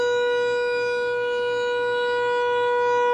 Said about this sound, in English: you can hear the wonderful siren